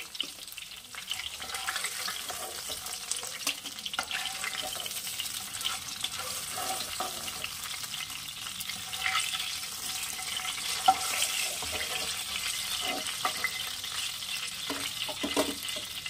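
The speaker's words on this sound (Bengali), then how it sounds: "ভোলা মাছ ভাজার সময় একটু সাবধান, এটা কিন্তু খুব তেল ফাটে" Bhola fish frying in oil in a pan, a continuous crackling sizzle with scattered sharper pops of spattering oil, moderately quiet and steady throughout without talk.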